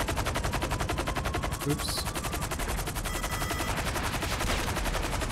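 Sustained rapid automatic gunfire from a military helicopter chase in GTA 5, loud and continuous throughout, with a brief spoken exclamation partway through.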